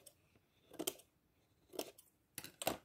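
A guillotine paper cutter trims sheets of paper, giving three short, crisp cutting strokes spaced about a second apart, close but quiet, with no talk.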